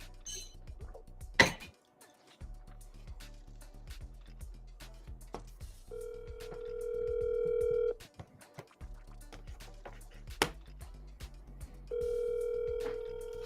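Telephone dialing and ringing tones on a call about a property listing, with dial-tone beeps, keypad presses, and steady ring tones repeating in long bursts separated by gaps, clear and near.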